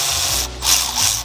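A ratchet wrench with a wobbly extension loosening a brake bolt on a Mk4 Golf VR6 4Motion, close and loud: two short bursts of rapid clicking separated by a brief pause.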